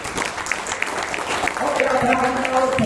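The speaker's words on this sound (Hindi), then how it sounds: "हमारे लिए भी एक बार 2 बार ताली बजाइए" An audience claps in scattered, then fuller applause at a talk, sharp individual claps building into a steady patter, with a voice speaking over it.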